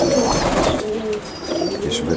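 White pigeons kept in a small, cramped loft in a city coo repeatedly, their low rolling calls layered over a busy, continuous background hiss.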